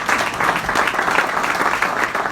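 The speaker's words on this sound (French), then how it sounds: "we applaud." Audience in a church service applauding continuously, a steady dense wash of many hands clapping at a fairly loud level throughout, with no speech over it.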